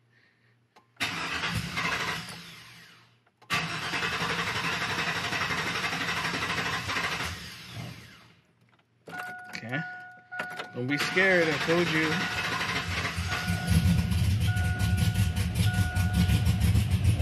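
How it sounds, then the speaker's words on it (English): A Chevy Silverado engine cranks in two long, loud stretches after its battery was disconnected, then catches and settles into a running idle, with a person speaking briefly between attempts. "it's going to take a couple cranks to get this thing started"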